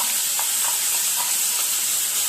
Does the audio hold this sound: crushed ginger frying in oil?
yes